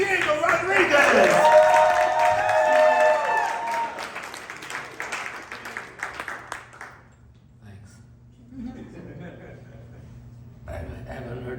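A comedy club audience claps and cheers loudly as a comic is introduced, with whoops over steady applause that fades after several seconds. Speech starts as the applause dies down.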